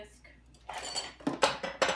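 A fork scraping and clinking against a pan while stirring hot fudge sauce, soft at first, then sharper metallic scrapes in quick strokes up close.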